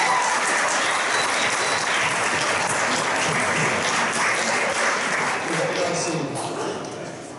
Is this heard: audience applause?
yes